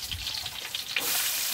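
Finely chopped ginger and garlic hit hot oil for a Kerala-style duck curry, a steady close sizzle that swells louder and hissier partway through.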